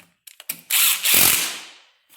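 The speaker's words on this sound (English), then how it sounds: "you can grab a 10mm socket and your bolts and put them on each side of the radiator" A 10mm socket ratchet snugs radiator bolts on a Raptor 660 ATV, a few quick clicks followed by a longer close, loud whirring burst that fades out.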